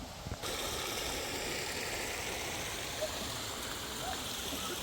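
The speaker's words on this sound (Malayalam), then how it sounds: "അമ്പലത്തിൻ്റെ തൊട്ട് മുമ്പിൽ കൂടെ ചെറിയൊരു അരുവി കൂടെ ഒഴുകുന്നുണ്ട്" A small stream flows just in front of a hidden temple in Kottayam district, giving a steady, continuous rush of water that stays fairly loud and even throughout, with no voices over it.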